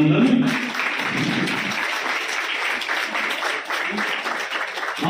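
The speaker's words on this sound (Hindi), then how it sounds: "जोरदार तालियां, अभिनंदन।" An audience at the opening of an annual festival in an Arya Samaj temple breaks into sustained, dense applause lasting about five seconds, with no voices over it.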